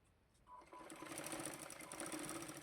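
A domestic sewing machine stitches a fold on a puff sleeve for a blouse, running in a steady continuous whir that starts after a brief quiet moment and holds close and even.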